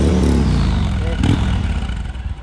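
Motorcycle exhaust from a new low-budget superbike, a loud close engine rumble with a steady throbbing idle, while someone talks over it throughout.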